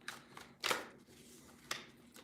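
Tarot cards are shuffled close by in a few quick riffling bursts separated by softer rustling, fairly quiet overall.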